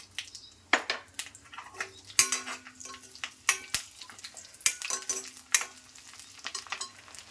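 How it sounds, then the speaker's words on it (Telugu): A quarter spoon of cumin seeds and curry leaves hit hot oil for a bottle gourd dish, crackling and sizzling under a run of sharp, rhythmic spoon clinks and pan scrapes, close by. "కొద్దిగా ఒక పావు స్పూన్ జీలకర్ర, కరివేపాకు వేస్తున్నాను"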